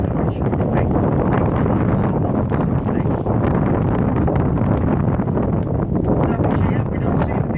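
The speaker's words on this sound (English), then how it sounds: "We've got a southeasterly wind this afternoon." A strong southeasterly wind blows at the entrance to Portsmouth harbour, buffeting the microphone with a loud, continuous roaring rush that never lets up.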